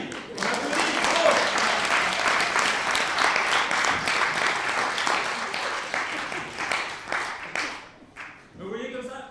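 A live audience applauds a volunteer at a French comedy show, steady dense clapping filling most of the stretch, thinning out near the end as a voice starts speaking.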